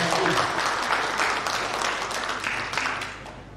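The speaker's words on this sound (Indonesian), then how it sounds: "saya minta kita tepuk tangan untuk semangat bersama PHRI." Audience at a regional meeting of the Indonesian hotel and restaurant association applauds, a dense, loud burst of clapping that tapers slightly over a few seconds.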